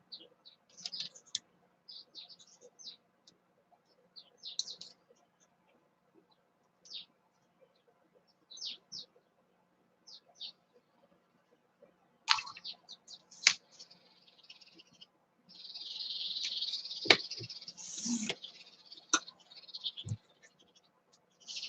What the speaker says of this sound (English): so just pay no never mind to the birds chirping and fighting outside